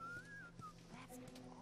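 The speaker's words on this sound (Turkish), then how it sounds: "öğrendi ıslık çalmayı" A character in The Last of Us whistles a short rising-and-falling tune, faint and brief over game background ambience.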